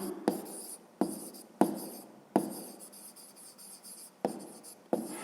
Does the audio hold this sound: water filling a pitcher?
no